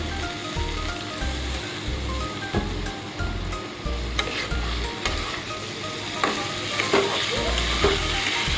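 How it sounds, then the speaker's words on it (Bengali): Eggs coated in spice paste sizzle in a pan for an egg and potato curry, a soft continuous frying crackle broken by periodic spatula scrapes and low stirring thumps, close and without speech. "ডিমের সাথে আমি আর একটু মশলাটাকে কষিয়ে নেব"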